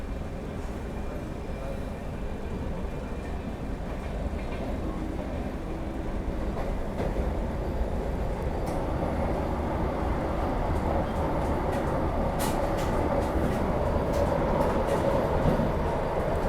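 A steady, loud rolling rumble of the Bhopal Shatabdi train accelerating past a Vande Bharat train on the Delhi route, with faint clicks and rattles over continuous wheel and track noise.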